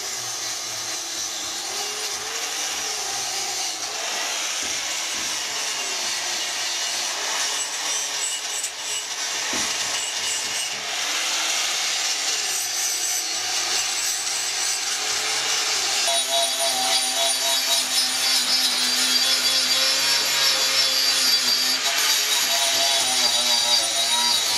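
Grinding or sanding the coating off an electric scooter part, a loud continuous abrasive rasp close by that holds steady for the whole stretch and grows slightly harsher toward the end.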